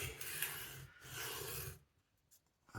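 A carbon steel knife blade is sharpened on a stone while raising a burr, giving a steady close scraping rasp in two long strokes that stops abruptly, followed by near quiet with faint small noises.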